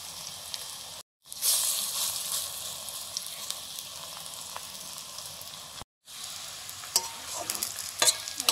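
Large lentil bori fry in oil in a home kitchen, a steady close broadband sizzle that runs almost unbroken, with two brief dropouts and a few sharper crackles near the end.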